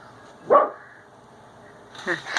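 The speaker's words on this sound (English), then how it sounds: "My dog is barking." A single sharp dog bark up close, followed about a second and a half later by a couple of quieter, shorter yips.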